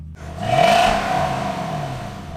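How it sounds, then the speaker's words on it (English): A drift car's V8 revs briefly behind its muffler, a dull, subdued engine swell that rises and settles over a couple of seconds, close by with no talking. "Yeah, there's a slight V8 sound, but it's totally muffled."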